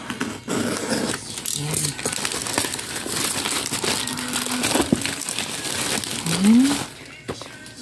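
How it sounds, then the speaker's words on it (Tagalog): Crinkling and tearing of a small airmail package as it is opened to reveal BT21 merchandise, a steady close rustle running throughout under someone talking. "isang maliit na airmail. So bubuksan na po natin yung item."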